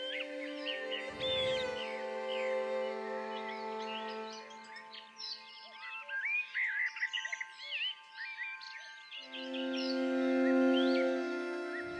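Birdsong attributed to a brambling: many varied chirps and tweeting calls, fairly close and clear, layered over a steady low hum that drops out briefly early on and returns near the end.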